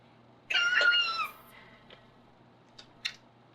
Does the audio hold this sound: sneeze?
no